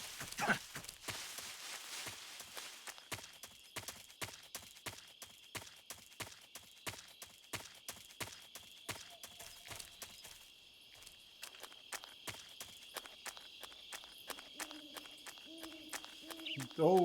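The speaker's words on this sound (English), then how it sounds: "you can hear the horse" Horse hooves from the Metal Gear Solid 3 video game clop in a steady, even rhythm for the whole stretch, fairly faint and unbroken, with a brief soft lull partway through.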